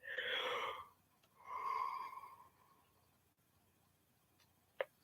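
A person lets out a drawn-out, voiced yawn in two swells, close to the microphone, followed by quiet and a single sharp click.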